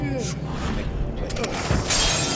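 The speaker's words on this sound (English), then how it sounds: "Broken glass." Glass shatters in a Dishonored 2 game scene, a sharp crash near the end of the clip over a steady bed of ambient noise and background voices.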